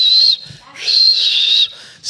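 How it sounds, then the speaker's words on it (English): A referee-style whistle sounds at the start of a quarter in a talk show setting, given two loud shrill blasts, the first short and the second longer, with a third starting at the end. "Chrissy, hit the whistle"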